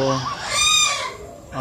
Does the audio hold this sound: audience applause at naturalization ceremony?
no